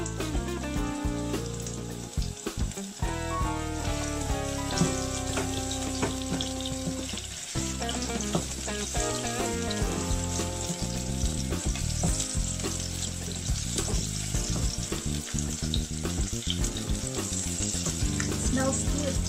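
Onions frying in oil in a non-stick pan, a steady bright sizzle running the whole time beneath strong background music with rhythmic low notes.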